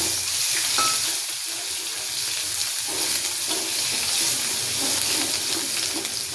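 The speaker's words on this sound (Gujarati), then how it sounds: "જીરાને થોડું તતડવા દઈશું" Cumin seeds sizzle and crackle in hot oil in a pan for cabbage curry, a continuous bright hiss with small pops, close and steady throughout.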